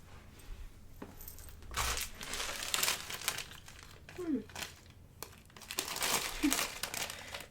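A Top Ramen beef noodle package is crinkled and handled. Soft, close plastic rustles come in several bursts while a voice whispers quietly over them.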